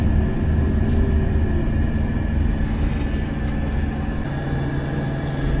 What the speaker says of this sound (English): another truck coming in